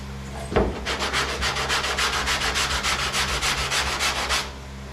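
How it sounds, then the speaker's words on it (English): A sanding block rubs back and forth over body filler in a fast, even run of about twenty strokes after a single knock, close and clear with no voices. "just sanding down it that little bit is taking the profile down super far"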